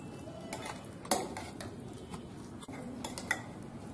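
Utensil scrapes and clinks against a pan as fried garlic is stirred into tomato chokha, a quiet run of soft irregular scraping with a couple of sharper metallic taps.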